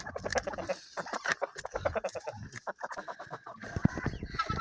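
Chickens cluck repeatedly in a busy, close chorus, short irregular calls overlapping, with some louder squawks breaking through.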